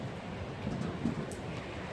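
Strong wind howls through a snowstorm, a dense continuous roar with gusting swells and no voices.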